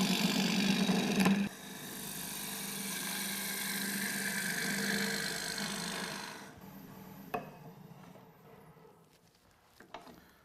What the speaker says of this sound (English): This is a 1/2-inch bowl gouge, which I'll use to hollow it out.